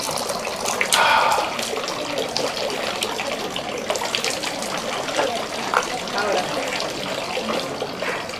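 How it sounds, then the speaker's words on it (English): Spring water runs steadily at a sightseeing spot in Tokyo, a continuous close gushing flow like a tap, with faint voices and background bustle underneath. "So water from a spring."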